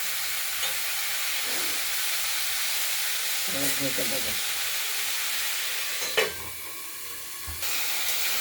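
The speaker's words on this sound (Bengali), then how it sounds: "শিমগুলো আবার ঢাকনা খুলে আমরা নেড়ে দিলাম।" Flat beans fry in an open pan, a steady hiss of sizzling oil running throughout while a spoon stirs and scrapes the pieces in a few brief bursts, with occasional knocks against the pan.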